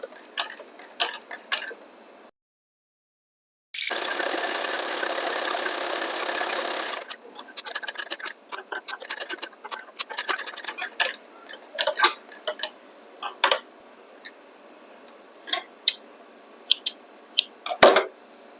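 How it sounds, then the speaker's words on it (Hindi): A sewing machine stitches a half band collar onto a kurta, running in a steady burst for several seconds between scattered ticks and clicks of fabric handling. "यहाँ से एक पैर छोड़कर ऊपर से सिलाई लगाना शुरू करेंगे"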